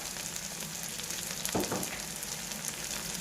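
Small onions and sliced onion sauté in a pan for mutton gravy, a fairly quiet continuous sizzle with one brief stir or scrape midway and no talking.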